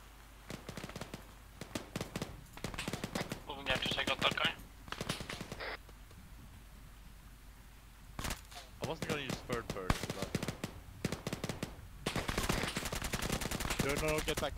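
Rapid gunfire in Arma 3 comes in repeated bursts of sharp cracks, some close and loud and others farther off, with players talking over the shooting.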